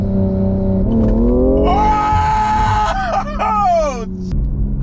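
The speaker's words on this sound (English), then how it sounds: "I'm gonna test out that lag thing he was talking about, the anti-lag." A BMW M340i with a tuned B58 engine launches with rolling anti-lag in second gear, a deep rising engine drone building quickly into a loud, harsh roar with sharp pops and stutters, heard close from the cabin.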